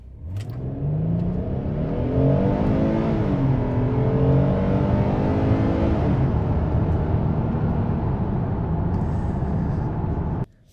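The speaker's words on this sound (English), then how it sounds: "Let's start off in comfort mode and see how it accelerates." A 2024 Hyundai Palisade Calligraphy accelerating in comfort mode, its engine rising smoothly in pitch through gear changes as a steady, loud interior drone with road noise, no talking.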